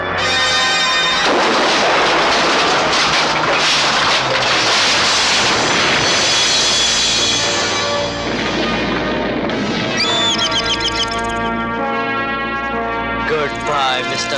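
Gunfire blasting at people in a 1987 Hindi action-comedy film, a loud, continuous barrage of heavy overlapping shots and blasts lasting about fourteen seconds, with voices faintly mixed in.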